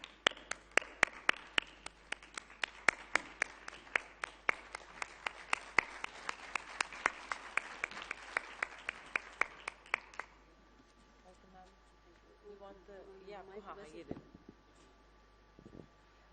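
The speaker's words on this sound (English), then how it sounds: "give her a big round of applause" An audience at a plenary event applauds a woman, the chairperson of a Haryana women's commission, as she comes on stage: dense, steady clapping with crisp individual claps for about ten seconds, then it stops and a quieter voice follows.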